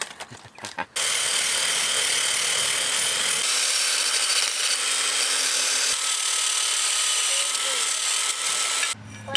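A power drill with a brush attachment scrubs caked grime off a Kawasaki KLX450R motorcycle exhaust, whirring loudly and steadily for most of the clip after a few short bursts at the start.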